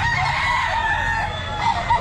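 Roosters crowing and hens clucking close by at a pet market, a loud continuous chorus of fowl calls with no talk.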